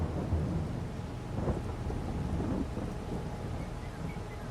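Steady rain pours across a farm in Farming Simulator 22 while low thunder rumbles beneath it, a continuous dense wash of falling water with deeper rolling swells and no voices.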